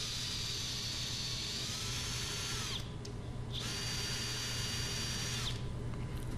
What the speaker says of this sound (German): jetzt kann ich hiermit mein Gewinde ganz einfach bohren